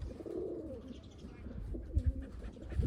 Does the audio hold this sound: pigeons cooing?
yes